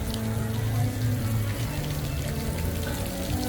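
A children's water play area splashes and runs continuously at Typhoon Lagoon water park, a steady hiss of falling water mixed with crowd murmur and faint voices in the background.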